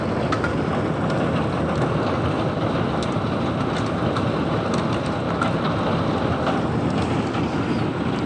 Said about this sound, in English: We're now getting dime size hail.